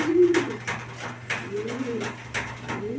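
Several racing pigeons cooing close by, soft repeated throaty calls overlapping with a low background hum.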